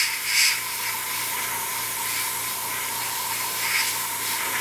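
Continuous steady hiss of a Patriot 105 double-action airbrush spraying gray primer on a 1/48 Tamiya model, close and alone, with slight swells as the trigger is eased.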